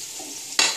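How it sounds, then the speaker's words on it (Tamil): Spinach greens with grated coconut are stirred in a pan over a soft sizzle, ending in one sharp scrape near the close. "இதை நல்லா பிரட்டி இறக்கிடலாம்."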